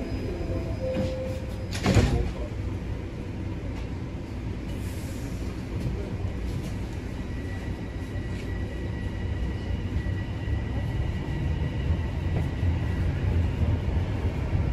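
A TTC Line 1 Yonge-University subway train's doors slide shut with a short, sharp thud near the start. The carriage's steady, close rumble continues after the doors close.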